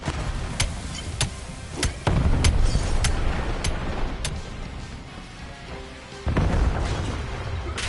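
A stun grenade goes off in a video game amid a busy combat soundscape: several sharp cracks and booming bursts at irregular intervals over a rumbling background, fairly loud and close, with no talking.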